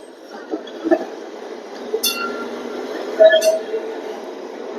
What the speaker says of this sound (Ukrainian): Дуже атмосферно рухається трамвай.